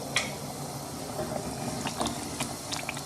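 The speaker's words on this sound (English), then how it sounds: "I'm just gonna add a half a cup of water in here" Half a cup of water goes into a vegetable lamb curry in a pan on high heat, giving a steady sizzling hiss with small splashes and faint clinks, close and alone.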